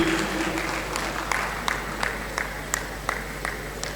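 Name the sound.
audience applause at tournament ceremony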